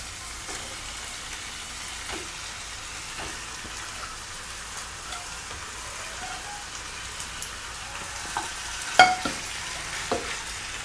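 Chicken fries in a pan with ginger paste and tomatoes, a steady faint sizzle like light rain, with occasional stirring clicks and scrapes growing more frequent toward the end.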